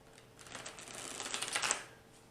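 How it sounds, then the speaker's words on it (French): A tarot card is drawn from a deck, a quick soft run of shuffling and riffling card noise building over about a second before it fades into quiet. "je vais vous tirer une dernière carte"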